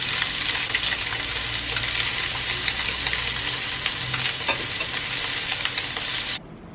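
Barramundi fillets sizzle and crackle steadily in a hot pan, a constant close frying hiss with faint stirring clicks that stops abruptly near the end.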